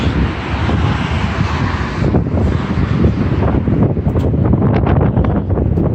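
Strong wind blows under a bridge, roaring steadily and loudly against the microphone in a dense rumble with buffeting gusts throughout.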